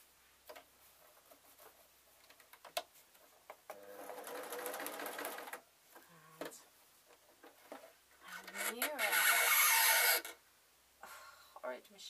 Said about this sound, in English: I'm going to sew over that blue bit